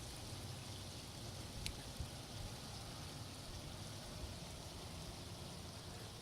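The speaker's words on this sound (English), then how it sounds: "It's still raining." Steady rain falling outdoors during a camp stove burn, a soft continuous patter with a few slightly louder drops, fairly quiet and with no talking.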